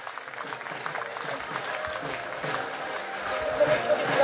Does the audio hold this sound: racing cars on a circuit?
no